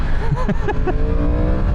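A Yamaha R1 sport motorcycle's engine is revved hard, loud and close, with rising and falling pitch over a steady roar, and a voice is faintly audible underneath.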